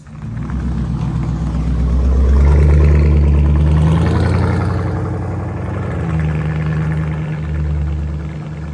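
A 2004 Mercedes SL55 AMG with a straight pipe exhaust rumbles loudly up close, swelling into a brief rev before settling back to a deep, steady idle.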